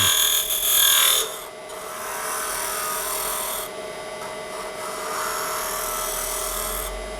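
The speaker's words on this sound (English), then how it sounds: "we're going to come back with a shear scraper and just finish up the interior of that" A continuous rasping scrape of a shear scraper smoothing the interior of a wooden bowl on a spinning lathe, steady and close, with a sharper, brighter stretch at the start.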